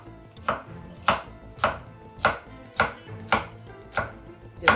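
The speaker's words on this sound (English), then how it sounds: "So I'm just gonna chop it" Okra being chopped with a knife on a cutting board for stir-fried rice, with steady rhythmic chops about every half second, close and clear with no talking.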